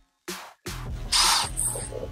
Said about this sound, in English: So I'm gonna try using